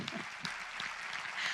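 Faint, scattered clapping from an audience at a public meeting, a thin patter of hands heard from a distance over room noise.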